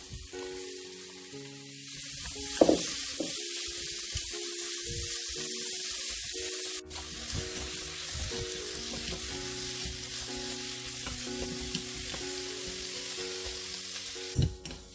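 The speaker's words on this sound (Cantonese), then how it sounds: "咁呢個鹹酸菜咧，我哋就白鑊炒一炒，唔好落油，俾幾片薑啦" Pickled mustard greens dry stir-fried with a few ginger slices in an oil-free wok give a loud, continuous sizzle with intermittent spatula clatter and scraping throughout, without speech.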